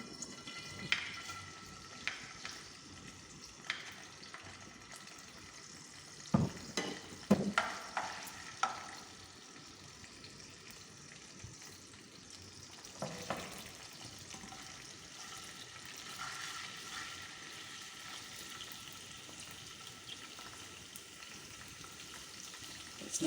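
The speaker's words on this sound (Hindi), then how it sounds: "अदरक लहसुन डाल देते हैं।" Ginger and garlic frying in oil for chicken tikka masala, a steady soft sizzle with intermittent stirring scrapes and clinks from a utensil in the pan, fairly faint and continuous throughout.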